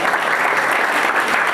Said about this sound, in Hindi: इनके लिए सांत्वना के लिए ताली बजा दो